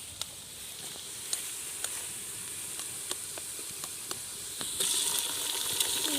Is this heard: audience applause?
no